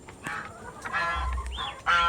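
Young laying hens in a poultry coop give honking, clucking calls in several short bursts, close and fairly loud, with a low rumble underneath toward the middle.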